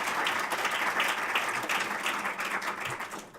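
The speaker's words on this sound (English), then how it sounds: "Big round of applause, please, on behalf of the team." An audience at a 2018 awards ceremony applauds a winner, a dense, steady wash of many hands clapping, close and loud throughout with no speech over it.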